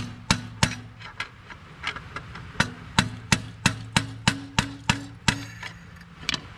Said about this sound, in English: While I'm hitting this pulley